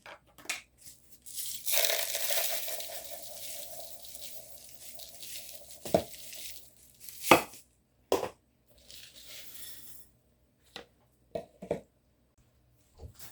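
Seasoned panko breadcrumbs with Romano cheese and flour being stirred together in a bowl for onion ring breading, giving a dry crunchy rustling scrape with a few sharp knocks, close and fairly quiet, with no talking.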